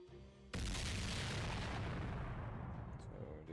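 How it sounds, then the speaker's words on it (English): In the video game Fate/Grand Order, a sudden loud boom erupts after a brief quiet moment, then trails off into a long rumbling roar. "An explosion!"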